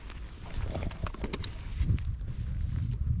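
Horse hooves clip-clop at a walking pace during a horse ride near the Giza pyramids, a rapid series of close, fairly soft thuds over low background rumble.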